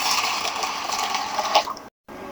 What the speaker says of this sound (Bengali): এখন ডালটা আমি ভিজিয়ে রাখবো।